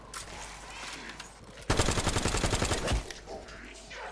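Rapid automatic gunfire in the Black Ops 7 Zombies video game, a loud sustained burst of about a second and a half rising out of quieter game ambience.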